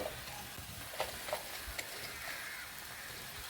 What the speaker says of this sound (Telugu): ఈ టమాటా పండ్లలోకి అయితే ఉప్పు పసుపు వేసి కొద్దిసేపు అయితే టమాటా పండ్లని మగ్గనిద్దామండి